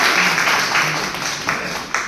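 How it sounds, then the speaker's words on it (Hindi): Audience applause at a Hindi-speaking public gathering, a dense wash of many hands clapping steadily throughout, with a few louder bursts near the end. "तालियां बजा दीजिए।"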